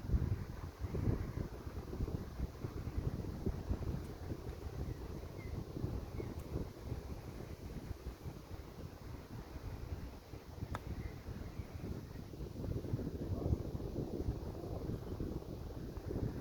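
Steady wind buffeting an outdoor microphone on a golf course, a low continuous rumble with gusty swells throughout and no voices.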